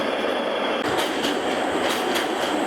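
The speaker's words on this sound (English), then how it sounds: "So there's tram 9226 departing." Prague tram number 9226 pulls away from a street stop, a loud, steady rumble of wheels on rail with faint metallic squeals and clatter. No talking.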